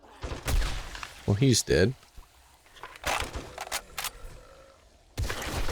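Gunfire in the survival game 7 Days to Die pops in several short bursts and single shots, fairly close and loud, mixed with other game noises while someone speaks briefly over it.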